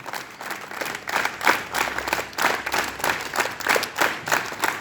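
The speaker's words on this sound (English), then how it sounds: "Clap your hands. Rhythmic" Students at a school assembly clapping their hands together in a steady rhythmic pattern, a crowd of bursts repeating about twice a second, fairly close and loud, with no talk over it.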